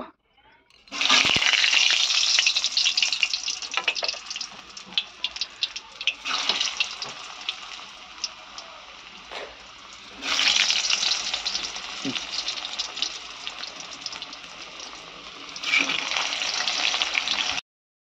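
Large pieces of potato fry in a pan in a vegetarian Bengali meal, with loud, bright sizzling that surges when pieces are added or turned and eases in between, close and continuous.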